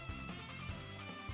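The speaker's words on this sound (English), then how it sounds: "sounds like an alarm" A repeating electronic alarm beeps in a steady pulsing pattern, about eight short bursts in quick succession, over a low musical background before cutting off.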